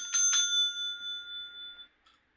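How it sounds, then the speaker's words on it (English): A small, rusty bell from a Pit card game is struck twice in quick succession, giving a bright, close metallic ring that fades away over about a second and a half, followed by a faint final tinkle. "Wait, does the bell still work? I think it does. Yeah, I heard it jingling in there."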